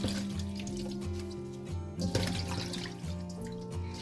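Running water splashes and trickles steadily in a sink as vegetables are rinsed, with music playing underneath.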